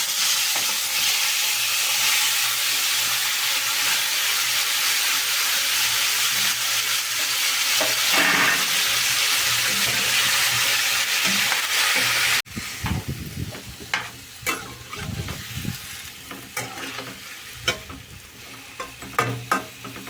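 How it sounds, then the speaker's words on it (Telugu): Chopped tomato pieces go into hot oil with spluttering mustard seeds for a tomato pickle, giving a loud, steady sizzle and hiss that gives way to crackling pops and stirring scrapes. "ఏగిపోతున్నాయి కదా చిట్టుపెట్లు ఆడుతూ ఉండగానే మనం కోసి పెట్టుకున్న టమాటా ముక్కలు కూడా వేసేద్దాం"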